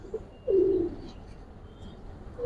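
A single short, low coo from a female pigeon at a pigeon loft, close and clear against a quiet background.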